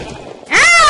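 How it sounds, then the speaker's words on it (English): A sheep in the Minecraft video game lets out a single loud, rising bleat as it dies, following a brief stretch of quiet game ambience. "The sheep is dying."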